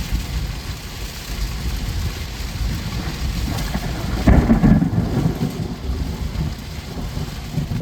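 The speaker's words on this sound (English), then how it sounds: "Luck would have it, we pulled up right at the same time as the storm's rolling up." Thunderstorm rolling over a Colorado mountain pass, heard from inside a parked vehicle: steady, close rain hiss and rumble with a louder thunder crack and roll about two-thirds of the way through, no voices.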